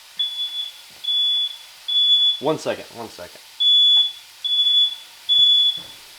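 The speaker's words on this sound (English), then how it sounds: "I think the smoke alarm is just trying to be protective" A smoke alarm chirps in repeated short, high beeps at a steady rhythm in a kitchen while a duck stir fry cooks, with a person speaking briefly between the beeps.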